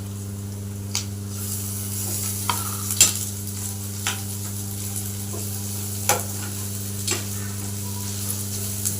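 Ginger garlic paste fries in a pan with curry leaves and oil, giving a low steady sizzle under a constant hum, broken by a few sharp clicks and taps of a spoon stirring.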